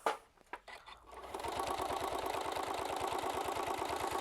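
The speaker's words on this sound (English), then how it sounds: "Then I'm going to stitch forward, and I'm going to do my world's best to stay in my seam allowance." A sewing machine stitches forward along a seam, a steady fast mechanical whir that settles into an even rhythm after a few short starts at the beginning, close and clear with no talk.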